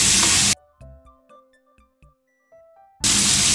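Shrimp fry in a pan with a loud, hissing sizzle. It breaks off into near silence with a few faint clicks, then the sizzle surges back just as loudly.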